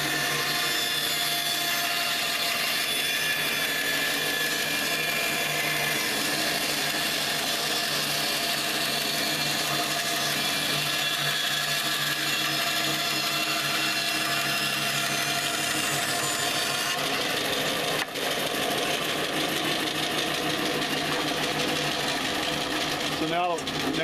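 A power saw trims a wood blank against the fence, its steady broadband whine running continuously and loud for the whole stretch, with a brief change near the end.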